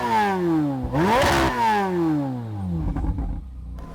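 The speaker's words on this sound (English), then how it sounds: "then you can start revving it up" A Corvette Z06 engine revs close by in a few sharp blips, its pitch sweeping up and falling back as the throttle rises and drops, then settling into a rougher idle, with no talk.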